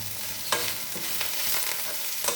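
A steady crackling sizzle of spices frying in hot oil, with a few sharper pops and clinks standing out from the constant hiss.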